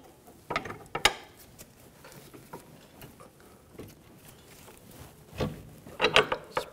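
A hand ratchet clicks in short bursts while a temporary bolt is run in on the rear wheel hub and knuckle of a 2004–2009 Audi A4 Quattro, with quieter metallic taps and pauses between the bursts.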